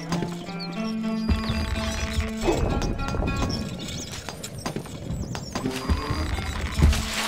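Horses in the Stronghold Crusader video game gallop with rhythmic hoof clops and let out neighs, set among game effects and a voice speaking over them.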